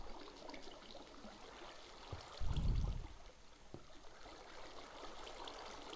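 Flowing water in Minecraft, a steady faint trickling stream running throughout, with a brief louder low rumble partway through.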